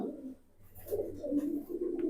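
Jabra Pankhi pigeons, hens, coo in a close series of soft, low, rolling calls, one murmur following another with a brief lull near the start.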